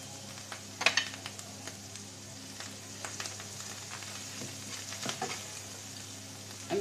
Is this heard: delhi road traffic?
no